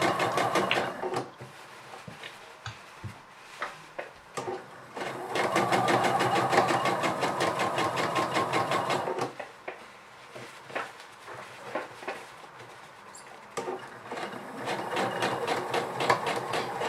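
A sewing machine top stitching the zipper fly of a pair of jeans with top stitching thread, running in several bursts of fast rhythmic needle chatter separated by pauses with handling clicks and fabric shuffling.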